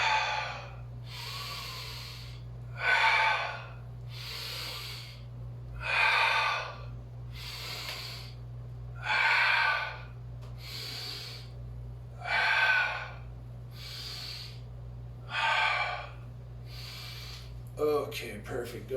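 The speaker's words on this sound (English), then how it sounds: "go ahead and begin to inhale very deeply. And exhale." Deep, slow breathing during a loosening and strengthening exercise routine: five or six long, airy inhale-exhale cycles at an even pace, close and clear over a low steady hum.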